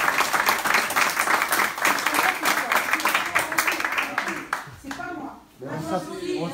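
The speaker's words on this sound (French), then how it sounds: "On s'applaudit tous." Audience applause at a meeting with Gilets Jaunes protesters in Pamiers, Ariège: dense clapping runs steadily for about five seconds, then thins and stops as a voice begins talking.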